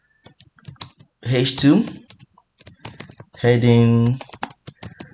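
Quick clicks of a computer keyboard while HTML heading tags are written, sharp taps scattered between and under a man's close speech.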